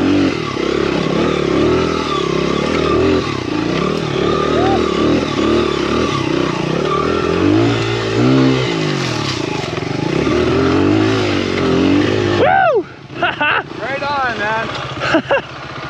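Farm dirt bike, an XR, climbing a mountaintop enduro trail uphill, engine revving and labouring loudly and close throughout, with an excited rider talking over it.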